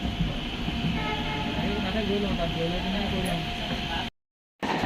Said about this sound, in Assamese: এয়া ট্ৰেইন এৰিলে এতিয়া তিনচুকীয়াৰ পৰা আৰু আমি গৈ আছোঁ গুৱাহাটীলৈ।